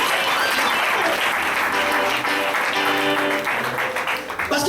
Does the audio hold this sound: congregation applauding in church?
yes